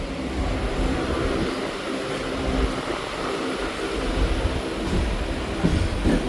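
Kolkata local train running steadily on the Sealdah section as it turns left toward Sir Gurudas Banerjee Halt, with a constant loud rumble and rattle of the carriages and no talk.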